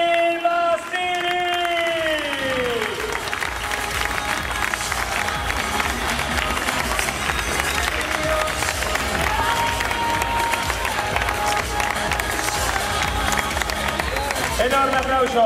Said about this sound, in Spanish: Enorme aplauso.